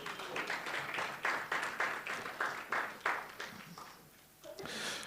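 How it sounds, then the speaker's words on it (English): A conference audience gives a round of applause, the clapping rising in bursts and fading toward the end before a brief swell returns. "Please give her a warm round of applause"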